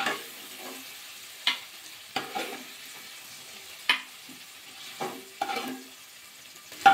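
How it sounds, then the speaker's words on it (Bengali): Potato and cauliflower pieces being stirred and fried in oil, with a steady soft sizzle broken by repeated sharp scraping clacks of the spatula against the pan, close and alone. "কপিটা আলুটা কিন্তু ভাজা হয়ে গেছে, একটু লাল লাল করে"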